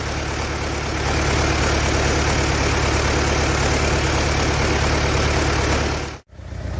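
A T-40AM tractor engine with new pistons runs loudly and steadily up close, a dense continuous diesel chug that cuts out abruptly near the end before picking up again.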